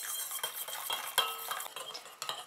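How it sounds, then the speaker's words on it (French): A utensil stirs an oil phase and a water phase together in a container to form a glittery cream, producing quick, close scraping and clicking strokes in an uneven rhythm, with no speech. "Et je continue à mélanger comme ça jusqu'à ce que ma préparation épaississe et refroidisse."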